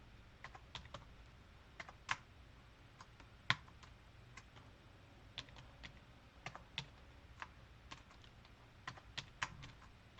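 Typing on a computer keyboard while entering text in an Excel spreadsheet, with soft irregular key clicks scattered across the whole stretch, close but quiet and with no talking.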